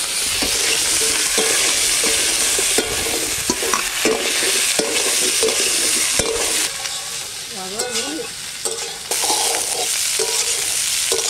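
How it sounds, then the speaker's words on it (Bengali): Cauliflower florets frying in hot oil in a village kitchen, with a continuous loud sizzle broken by frequent scraping stirs of a spatula, and no talking. "এখন ফুলকপিগুলো ভেজে নেব"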